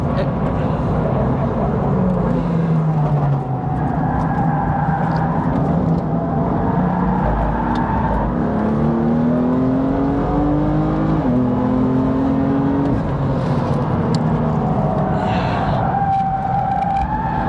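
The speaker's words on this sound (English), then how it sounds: "there we go, look, we're drifting" A car drifts at Snetterton race track, engine revving up and down in repeated swoops with rising and falling tones, heard loud from inside the cabin while people talk over it.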